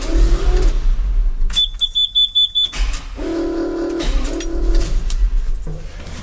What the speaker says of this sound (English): I'm gonna bump the motor over a couple times